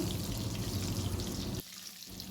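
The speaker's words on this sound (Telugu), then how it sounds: "అవి కూడా దాంట్లోకి వేసుకొని గోల్డెన్ బ్రౌన్ వచ్చేంత వరకు అయితే ఫ్రై చేసుకోవాలి." Pieces of salted fish fry in hot oil with a loud, dense sizzle that suddenly drops to a softer, quieter crackle near the end, heard close up without any talking.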